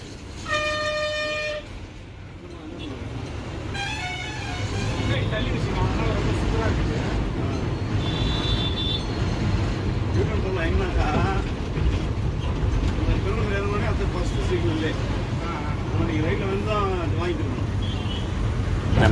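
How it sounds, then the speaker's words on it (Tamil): A bus sits stuck in a heavy traffic jam on a Chennai route, with a loud horn toot at the start and then a steady wash of engine and road noise, other horns and talk in the background. "சரியான டிராஃபிக்ங்க, 1/2 அன் ஹவராக நிற்கிது வண்டி."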